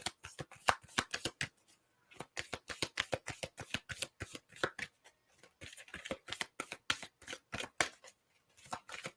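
A deck of Power of Love oracle cards is shuffled close up: rapid, crisp riffling bursts that repeat in quick rhythmic runs, briefly pause, then start again.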